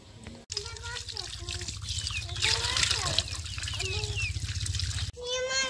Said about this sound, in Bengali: মাছ আমি কেটে নিছি, এখন আমি পরিষ্কার করে ধুয়ে নিব পানি দিয়ে।